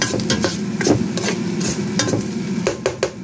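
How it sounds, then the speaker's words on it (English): Garlic toasts in a pan under a continuous soft sizzle, with a utensil stirring and tapping against the pan in scattered short knocks. "toast a bit the garlic"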